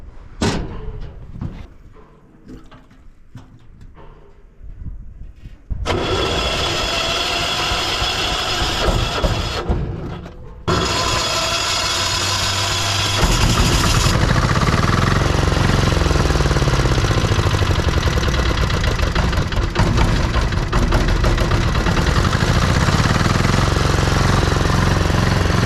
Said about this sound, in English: I'll flick this gen set on.